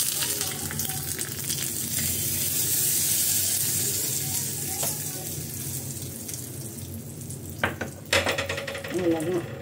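Mustard seeds, urad dal and curry leaves fry in hot oil for a sundakkai chutney tempering, giving a steady close sizzle and crackle throughout, with a few sharper pops and utensil clinks near the end.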